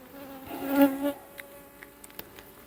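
A honeybee from a nearby hive buzzes close past during an open hive inspection, a brief rising and fading drone lasting under a second, followed by faint scattered ticks and rustles.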